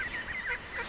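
Ducks on a lake being fed bread, an adult chasing ducklings, with brief nasal honking quacks overlapping close by against light outdoor background noise.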